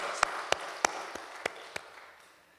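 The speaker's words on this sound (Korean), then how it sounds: "오늘도 우리에게 새 날을 주신 하나님께 감사와 영광의 박수 같이 드리겠습니다." A handful of sharp, separate claps from a congregation at a dawn worship service, about six distinct hits spaced roughly a third of a second apart in a quiet room, fading toward the end.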